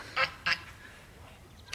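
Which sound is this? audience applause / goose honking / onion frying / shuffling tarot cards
goose honking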